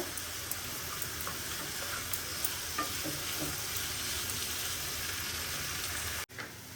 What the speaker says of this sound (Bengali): আদাটা দিয়ে কিছুক্ষণ নাড়াচাড়া করব।